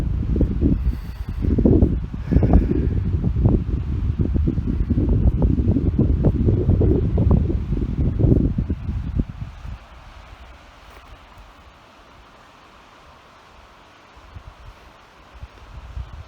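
Strong gusts of wind buffet the microphone at a Colorado campsite, heavy rumbling blasts for about nine seconds, then easing to a softer steady breeze before picking up slightly again.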